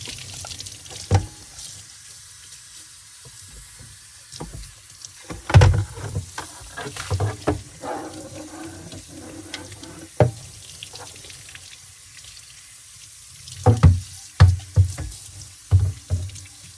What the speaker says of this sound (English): let's rinse that off and see how it does.